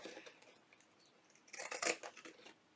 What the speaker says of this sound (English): I just think the pinking shears give it a little texture